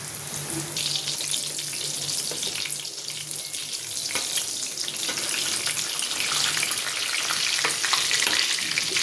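A Rui fish cake fries in hot oil with a continuous close crackling sizzle, busy and bright, swelling slightly toward the end with a few sharper pops.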